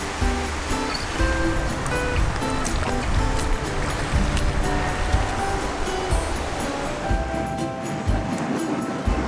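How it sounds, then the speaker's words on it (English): Waves rolling onto a small private beach on a little island in Fiji's Yasawa group, a continuous wash of surf with occasional louder breaks and rustling, fairly close, with faint voices now and then. "now we have essentially a private beach on a little island in Fiji"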